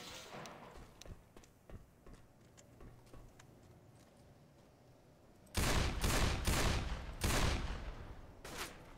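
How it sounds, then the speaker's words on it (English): Gunfire in the zombie shooter Left 4 Dead: after a stretch of quieter in-game ambience, several loud, sharp shots ring out in a quick irregular burst, followed by one more a moment later. "Took four shots, but eventually hit the head"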